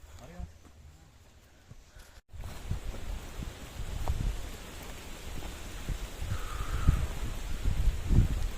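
Storm on the bald summit of Mount Ungaran: steady, roaring gusts buffet the microphone amid a rainy, rustling wash, close and fairly loud, after a brief quieter opening.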